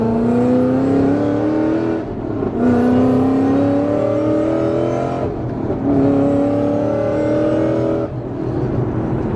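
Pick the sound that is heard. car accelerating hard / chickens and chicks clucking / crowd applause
car accelerating hard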